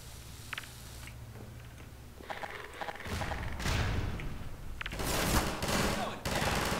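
Gunfire in Half-Life 2: scattered shots and heavier bursts that build louder toward the end, mixed with game noise and thumps.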